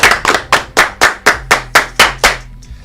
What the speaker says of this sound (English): 10 claps.